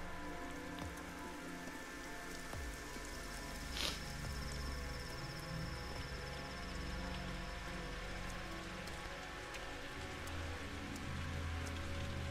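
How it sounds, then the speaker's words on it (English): Steady rainfall patters continuously in the game Pathologic 2, a soft even hiss of drops on surfaces with faint ambient tones underneath and no voices. "Oh, I don't think I've seen rain for a while."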